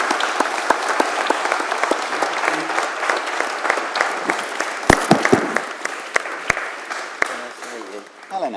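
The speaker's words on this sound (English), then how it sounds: "Can we give Lady Hale a round of applause?" Audience applause for Lady Hale at a legal debate on the rule of law and access to justice, a sustained roomful of clapping with sharp individual claps standing out, continuing steadily for several seconds.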